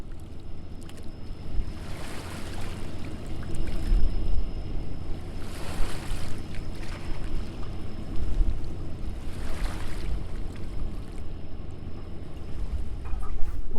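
Wind and water on the bank of the Mississippi River at Fort Defiance, on the southern tip of Illinois: steady gusty wind buffeting the microphone over washing water, with surges every few seconds.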